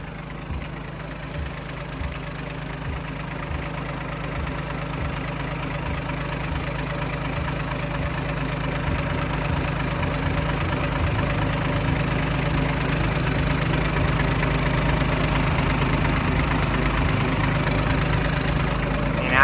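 A TCM 866 wheel loader's heavy diesel engine idles steadily with a low, rumbling knock, growing slightly louder toward the end, heard up close with no one speaking.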